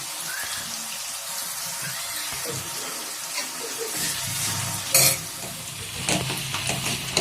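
Onions fry in a pan for a junumula curry, a soft steady sizzle with occasional stirring scrapes and a brief louder clatter midway, fairly quiet and without talk.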